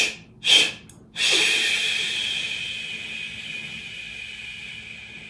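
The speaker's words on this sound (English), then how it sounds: "we're just going to do it one more time on that third shush. Just release it over as long as you can." A long sustained "shh" breathing exercise in a musical theatre vocal warm-up: two short breaths or shushes, then one steady hissing shush held for about four seconds, close and fairly loud, slowly fading.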